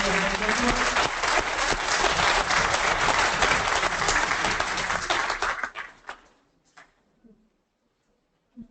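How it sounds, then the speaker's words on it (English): Audience applause fills a hall at a Pakistan leadership conference, dense and loud for several seconds, then thins into scattered claps and dies away. "Give her a huge round of applause."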